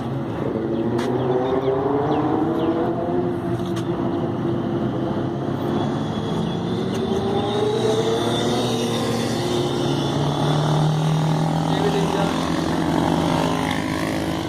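A group of KTM superbikes rolls into the Buddh International Circuit in Greater Noida, with several engines droning and shifting in pitch together at a steady, loud level.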